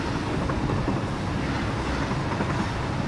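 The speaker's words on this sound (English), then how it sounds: "There is actually a train coming." A train passes in the factory-building video game Satisfactory, its rumble continuous and fairly loud, with no speech.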